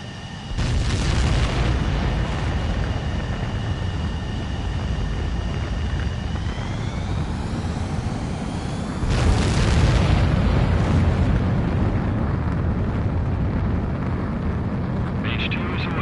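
Fighter jet launching in Ace Combat 7, a heavy engine roar that builds, surges louder midway, and keeps thundering as the aircraft takes off.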